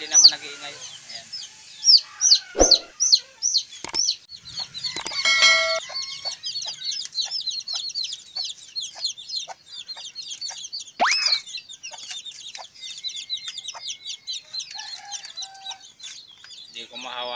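A mother hen clucks among her newly hatched chicks on a rural provincial farm. The chicks keep up a steady stream of rapid, high peeping close by, broken by the hen's lower clucks and a few brief knocks, and a faint voice sometimes talks underneath.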